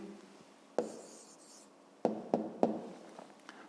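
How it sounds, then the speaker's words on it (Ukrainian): Pen writing an answer on paper, soft scratching with a few sharper taps, close and quiet. "Записуємо тоді відповідь"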